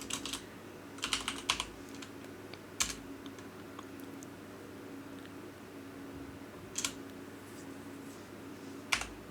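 Keys tapped on a computer keyboard in short bursts of clicks separated by pauses, close and fairly quiet, with no voices over the faint room hum.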